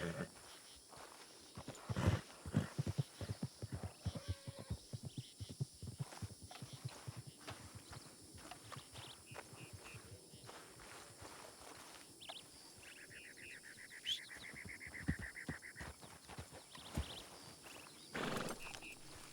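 Horse hooves clip-clopping in a video game, irregular close hoof steps across the scene with a short whinny-like call midway, heard fairly quietly among other faint game sounds.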